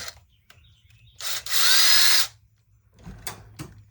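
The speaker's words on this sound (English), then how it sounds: "I'm kind of curious now how that thing sounds while driving a screw." A Ridgid power drill drives a screw into a wooden 4x4 block in one loud, steady whirring burst of under a second. A few faint clicks and handling knocks come before and after it.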